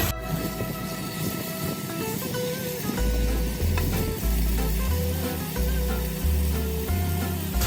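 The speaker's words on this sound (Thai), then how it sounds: "เดี๋ยวเราก็จะ ตีกับกระทะนะคะ ให้มันสุกให้มันสุกกระเล็กน้อยนะคะ" Pork sizzles steadily in a hot pan, with occasional stirring scrapes and a repeating low thumping underneath.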